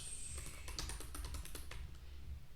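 Rapid, uneven keystrokes on a computer keyboard as Linux commands are typed in a class, a close burst of clicks lasting a couple of seconds over a low background hum.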